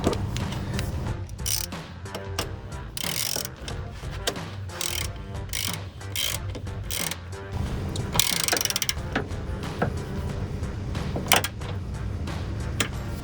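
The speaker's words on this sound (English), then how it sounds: "Alright, screw it back in." A ratchet drives a bolt back into an oil separator bracket on a 2005–2010 Mustang GT, with rapid clicking bursts, pauses and metallic clanks, close and loud.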